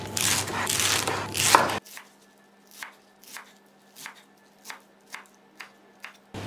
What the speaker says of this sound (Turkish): Rokayı doğradım.